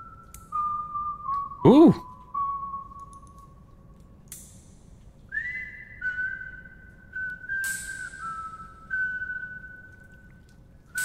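Long tonal whistling drifting in pitch, a sustained held note followed by a second higher phrase, moderately loud over a low hum, with a brief vocal exclamation near the start.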